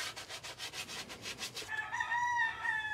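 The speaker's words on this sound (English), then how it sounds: "What we're doing is sanding edges on this" Rhythmic rubbing strokes of sanding along the edges of bisque-fired pottery, steady back-and-forth scraping up close, then a rooster crows in the distance.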